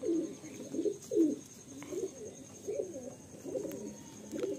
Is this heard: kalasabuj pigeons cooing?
yes